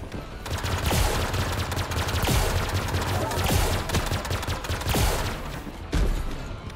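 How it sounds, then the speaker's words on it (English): A railgun-like weapon firing in the VR game Grapple Tournament, a rapid stream of loud, sharp shots over a constant roar of game noise, with a few heavier reports standing out. "What's this gun like? Ooh, it's like a railgun, kind of?"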